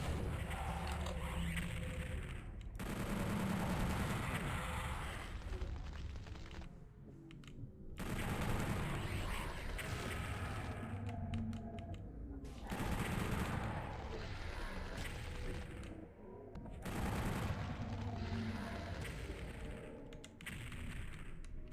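Rockets launch and explode in modded Doom 64, with repeated booming bursts arriving in waves separated by short pauses, mixed with rapid weapon fire at a fairly low overall level.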